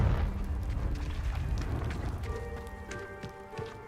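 A Confringo fire spell goes off in Hogwarts Legacy, a deep booming blast that rumbles and slowly decays, followed by faint lingering magical tones and crackles.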